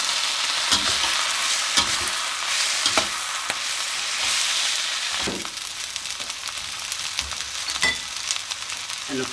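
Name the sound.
yakisoba noodles being added to a hot pan and frying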